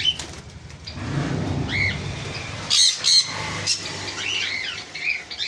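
Cockatiels, including white ones, and sun conures in a cage give repeated loud squawks and chirps, with wing flapping and rustling in between. The calls come in short bursts that stand out over a low background hum.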